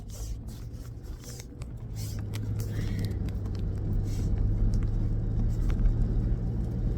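A car moving through rainy Florida traffic gives a steady low engine and road hum throughout, with faint hiss above. No one speaks.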